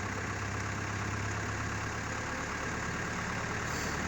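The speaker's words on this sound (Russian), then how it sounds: "Вот она пошла обороты набирать." A Foton 1069 truck diesel engine with a restored mechanical governor runs steadily and close by, a constant droning rumble that holds even throughout.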